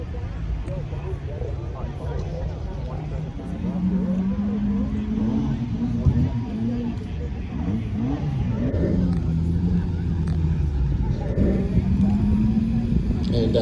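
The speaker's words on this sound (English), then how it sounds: "Just took off at the line was Richard in the 2013 Super" Cars race through an autocross course at Daytona Speedway, engines revving and accelerating off the start line in a continuous loud drone, with a voice talking over the engine noise.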